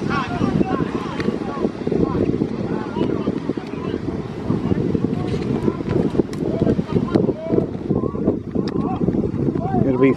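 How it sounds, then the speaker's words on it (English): Wind gusts across the microphone at an outdoor college club football game, a steady rushing roar that persists throughout. "Wind is picking up again."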